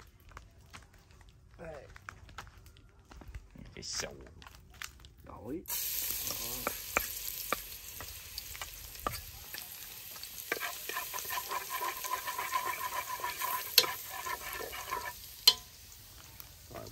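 Food sizzling and frying in a pan over an outdoor fire in a rural Mekong Delta garden in Vietnam, a steady hiss that starts partway through with stirring clatter, while people talk nearby.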